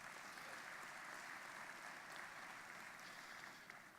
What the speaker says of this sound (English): Hannah Roberts, let's give her another round of applause.